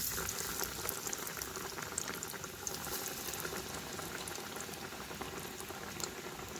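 Potato slice sandwiches, boiled inside, frying in hot oil over medium heat, giving a steady, dense bubbling crackle that holds even and close throughout with no voices.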